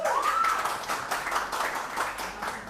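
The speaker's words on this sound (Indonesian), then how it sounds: "Tepuk tangan untuk kita semua." Applause and clapping from a talk-show audience at an entrepreneurship event, a steady dense patter of many hands lasting throughout, moderately loud with a faint tonal sweep early on.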